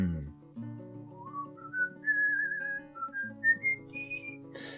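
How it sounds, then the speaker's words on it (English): A person whistles the melody from 101 Dalmatians in bright, rising and falling phrases, clear and close, over quiet instrumental game music playing steadily underneath. "trying to whistle the music from 101"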